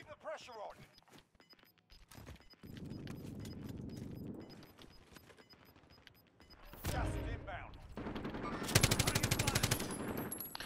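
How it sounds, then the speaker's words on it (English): Video game gunfire aimed at a Nova factory: after a stretch of low rumble and faint voices, single shots crack out, then a loud, rapid automatic burst rattles continuously near the end. "shooting at that Nova factory as well"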